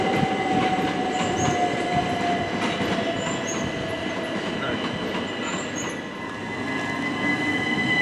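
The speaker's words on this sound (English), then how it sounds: "Leaving now is 5R38 on a service to Ashford Downyard, formed of 375518" A Class 375 electric multiple unit pulls out of Ashford International station, its wheels squealing in a drawn-out high whine over a steady rolling rumble and faint clicking, with no speech.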